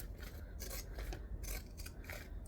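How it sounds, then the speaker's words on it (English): Pinking shears, zigzag scissors, cut through fabric in steady repeated rasping snips, close and clear with no talking. "we can take our zigzag scissors, which for those that are new here, I do know that they're called pinking shears"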